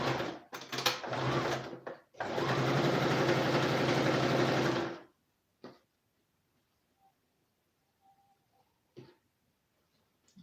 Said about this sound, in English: And again, it depends on your sewing machine.